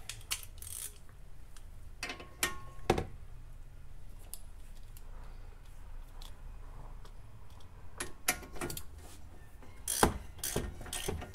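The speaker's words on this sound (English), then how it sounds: "use your one of the ratchets to hold it in place, while the other one tightens the nut or the bolt." Ratchet tightening a nut or bolt during a coilover install on a VW MK5 R32, quiet bursts of rapid clicking interspersed with metallic clanks and handling noises, close by with no talking.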